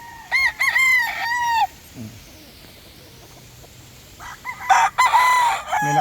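Young early-maturing Boston stag roosters tied up outdoors crow in short, strained bursts, one near the start and another toward the end, with faint clucking and quiet rustling between.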